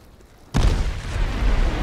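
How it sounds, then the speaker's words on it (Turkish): A door blasts open in the video game H1Z1: a single sudden loud boom after half a second of quiet, followed by a sustained, dense rumbling roar that stays loud to the end. "Kapı gitti. Patladı."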